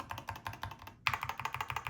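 Typing on a Keychron K2 HE magnetic switch keyboard, a quick, even run of close, crisp keystrokes with a brief pause midway before the tapping resumes.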